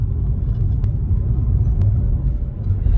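A 2011 Volkswagen Golf 6 TSI wagon cruising, heard as a low steady rumble of engine and road noise inside the cabin.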